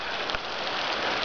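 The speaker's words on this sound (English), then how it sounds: "The crazy hailstorm with the thunder. Oh, look at it bouncing off the rocks up there." A hailstorm pelting the rocks on Mount Revelstoke, a dense, steady hiss of countless small impacts close by, constant and unbroken throughout.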